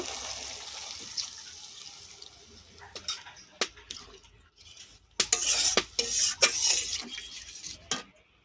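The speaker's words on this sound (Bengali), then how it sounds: "এবার একটু জল দেবো অল্প করে। এই বাটি ধোয়াই জলটা দেব।" Water from a rinsed bowl splashes into a pan of pabda fish curry with mustard and poppy seed, in short clattering bursts mixed with clinks of bowl and utensil against the pan, fairly quiet overall.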